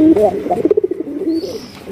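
A male Golla pigeon gives one close, loud coo lasting about two seconds, a low throaty call that swells into a quick run of pulsing throbs before trailing off.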